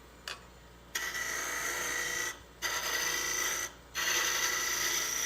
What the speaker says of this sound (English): we're basically using that as a scraper to just hollow out some of the inside